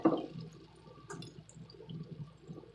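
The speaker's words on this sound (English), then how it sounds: "I'm going to be adding 2 cups of very hot water to this." Two cups of very hot water poured into a pan of browned Salisbury steak drippings for gravy, a soft gushing splash that starts strong and settles into a quieter, fluttering trickle.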